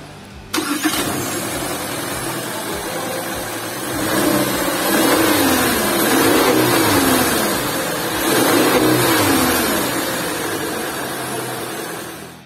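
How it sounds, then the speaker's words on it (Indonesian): A 2022 Subaru Forester with a 2.0-litre boxer engine cranks and fires up, then settles into a steady idle with a low, even hum and two mild swells in revs, heard close with no talking. "pengen coba dengerin kayak apa sih mesin Subaru Forester ini, karena kan dia khas dengan Subaru, mesinnya pakai boxer gitu ya, 2000 cc"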